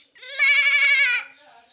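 A child imitates a baby goat's bleat with the voice, a single wavering, trembling bleat held for about a second, close and fairly loud, followed by faint background noise.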